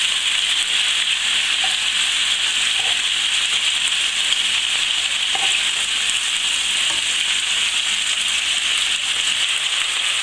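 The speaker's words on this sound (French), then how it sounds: "tournez vos morceaux et faites-les dorer de l'autre côté" Monkfish tail pieces fry in a pan for a Provençal dish, giving a loud, steady sizzle with a few soft pops and clicks throughout, no voices.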